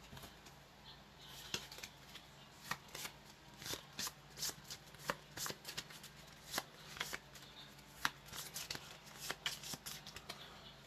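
A deck of playing cards shuffled during a solo game of the board game Halls of Hegra: soft, rapid riffling snaps and flutters repeating irregularly over several seconds, faint and close, with no talk.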